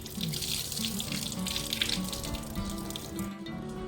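Rinse water tipped out from washed ingredients before grinding for kachayam gives a continuous close splashing gush, like a running tap, over a soft musical hum.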